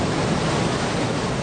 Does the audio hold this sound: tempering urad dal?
no